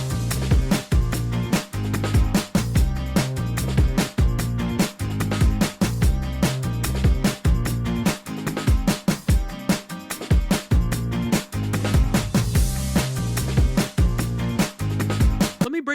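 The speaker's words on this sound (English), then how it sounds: "And in context, just with the drums and just with the acoustic guitar, that bass sounds like this." A bass line from a pop track plays with punchy drums and strummed acoustic guitar in a dense, steady groove throughout.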